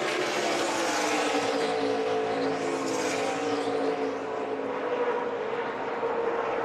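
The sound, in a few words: NASCAR trucks racing at Pocono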